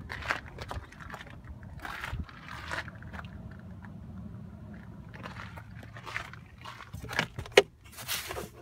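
Keys and papers being handled inside a 2013 Ford F250 pickup: light jangling, rustling and clicks come in short, close bursts, with a sharper knock near the end.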